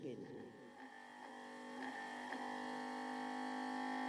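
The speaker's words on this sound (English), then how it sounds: "I gave the spindle a swing, and slowly it began to spin." A device's spindle whirs as it spins up, a faint rising hum with tonal ringing that steadies and grows as speed builds over a few seconds.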